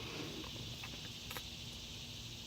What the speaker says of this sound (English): can still hear the cicadas.